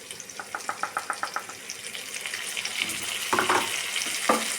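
Ground tomato paste frying in a pan for an Andhra-style fish curry, starting with a quick run of soft regular pops and then spreading into a louder, steady close-up sizzle with bursts of spattering.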